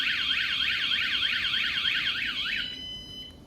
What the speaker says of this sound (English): This longer blast of sound alerts people around, it alerts you, and it draws attention from other people